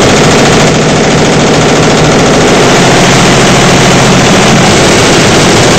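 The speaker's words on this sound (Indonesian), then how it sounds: "pabrik ini beroperasi menggunakan mesin jahit elektronik dan sistem komputer" Electronic sewing machines run in a robe factory, a loud, dense, continuous mechanical rattle and whir that fills the space without pause.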